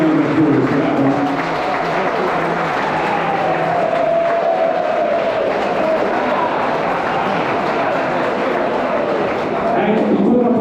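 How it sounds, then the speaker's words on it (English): A room of partygoers applauds in a sustained, dense wash of clapping that holds steady for several seconds, with a voice audible beneath the crowd. "Give yourselves a round of applause for that one."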